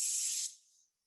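A voice imitates a spray paint can with a bright, breathy hiss that holds steady for about half a second, then fades and cuts to silence.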